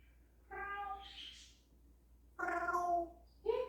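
An African grey parrot imitates a cat, producing two clear, drawn-out meows close by with a pause between, followed by the start of a third.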